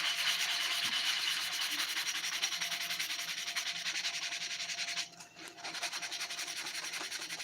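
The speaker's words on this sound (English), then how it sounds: "I'm going to hit it with my sanding sponge" A fine-grit sanding sponge rubs steadily over a carved wooden dresser knob, a continuous close scratchy hiss with one brief pause near the end.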